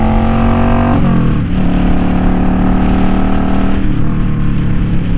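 Motorcycle fitted with an Emgo-style cocktail shaker exhaust accelerating hard, a loud, close engine note climbing in pitch, dropping at a gear change, then rising again.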